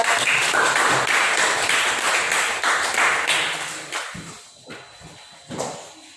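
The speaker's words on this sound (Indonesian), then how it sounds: "Silakan tepuk tangan untuk kelompok 3." A classroom of students claps for a presenting group, giving a dense burst of applause that thins out and fades into a few scattered, isolated claps near the end.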